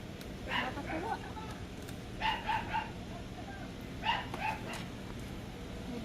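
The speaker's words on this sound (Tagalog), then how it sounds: "May background pa na aso." A dog barks in short bursts a few times in the background, with spaced groups of yips over a steady low hum.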